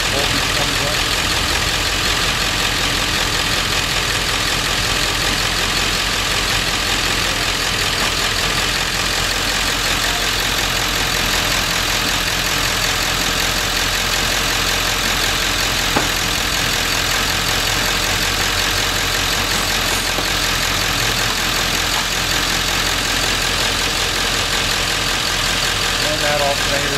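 A diesel engine idles after its glow plug cycle during electrical testing, a loud, continuous, even drone that holds steady throughout.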